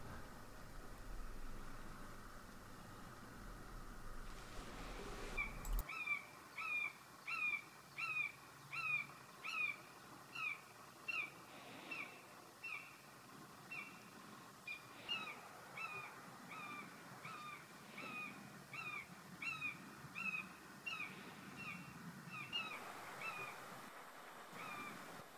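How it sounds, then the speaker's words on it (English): A common buzzard calling repeatedly from a wildlife photography hide in the Leicestershire countryside: a long series of evenly spaced, drawn-out mewing cries, moderately distant, over quiet outdoor ambience. "this buzzard was calling frequently"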